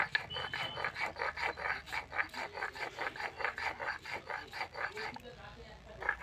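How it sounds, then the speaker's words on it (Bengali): Coriander leaves ground by hand on a grinding stone, a steady rhythmic rasping scrape repeating about three times per second, close and fairly quiet, stopping briefly near the end. "এবার আমি ধনে পাতাগুলোকে বেটে নিচ্ছি"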